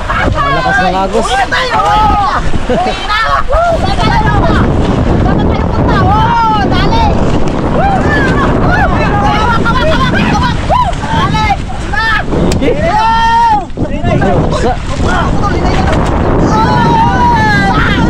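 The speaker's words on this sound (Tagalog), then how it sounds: "Malakas yung alon, grabe." Strong waves churn around a small boat at sea against a fast current, a constant loud wash of water and wind noise, with voices calling and chattering over it throughout.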